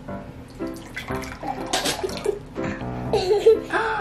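A drink is poured into a cup with a splashing liquid gurgle, close and moderately loud, while voices and a bit of laughter are heard alongside.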